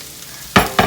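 Carrots hitting a hot pan for spicy chicken and shrimp chow mein, a quiet low hiss that breaks into two sharp, close bursts of sizzling and clattering stirring near the end.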